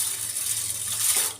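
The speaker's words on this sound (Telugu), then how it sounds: "వాటర్ పోసి" Water is poured over moong dal in a bowl to soak it, producing a short, steady splashing rush with faint clinks, close and fairly loud, with no talking.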